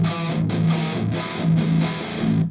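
Distorted heavy electric guitar through a Mesa Rectifier cabinet, an aggressive, dense chugging riff with a few choppy rhythmic breaks, loud and close with no talking.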